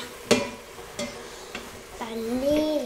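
Ingredients for chicken jambalaya are stirred while they sauté in an Instant Pot, with a few distinct scrapes and knocks of a spoon against the pot over a soft sizzle and a voice.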